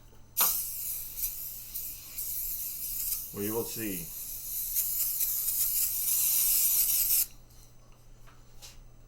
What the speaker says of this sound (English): Number one reason why I use spray away instead of Windex.